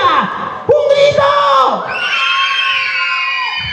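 Children at a school promotion party in Puerto Maldonado let out a loud group shout together, a burst of high excited voices that rises sharply and then holds as a sustained cheering yell.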